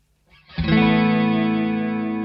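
Electric guitar run through a Boss ME-5 multi-effects unit set to chorus and flanger, a single strummed chord struck after a faint pick noise and left ringing with a shimmering, slightly distorted sustain.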